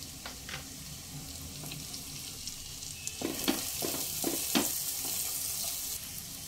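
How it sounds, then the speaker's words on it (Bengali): Ground spices sauté in a hot pan for a Kolkata-style fish biryani with a continuous close sizzle, while several sharp scraping stirs of a spoon against the pan cluster near the middle. "এক মিনিট কষিয়ে নেবার পর"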